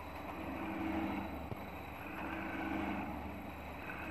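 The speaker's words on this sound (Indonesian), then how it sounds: "Untuk motor ini sudah jalan." An electric motor driven by an Altivar 31 inverter set to 24.8 Hz runs with a faint, steady low hum and no other notable sounds.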